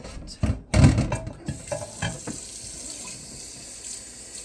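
Kitchen tap water gushes into a pot as it is rinsed after making mulberry jam, a loud splashing burst early that settles into a softer trickle and swirl, with no talking.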